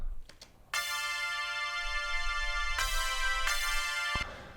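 Sustained bright synthesizer chords in Ableton with the arpeggiator removed, changing twice, preceded by a few short clicks and ending with a soft release.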